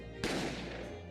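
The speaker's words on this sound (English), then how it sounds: "I didn't have time to think about where the sound of the gunshot had come from." Single sharp gunshot in The Great Ace Attorney, a sudden loud crack with a ringing tail that decays over about a second, alone with no talk.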